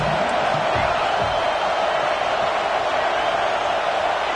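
Steady, dense roar of a football stadium crowd at a Nebraska vs. Texas A&M game, a continuous wash of cheering and shouting that holds at an even level throughout with no single voice standing out.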